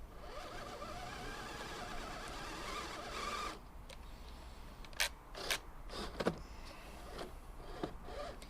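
An LDRC LD18401 Land Rover 1/18 RC crawler with hard plastic bodywork drives in reverse, giving a thin whirring motor whine that drops off partway, followed by several sharp clicks and gear clatters, close and fairly quiet.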